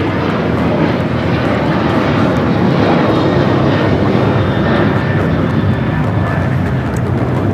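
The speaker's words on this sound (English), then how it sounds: "That is Delta Airlines 986 taking off to Austin on the 737-900ER" A Delta Airlines Boeing 737-900ER taking off at LAX, a loud sustained jet engine roar with broad rumble that stays heavy for the whole stretch.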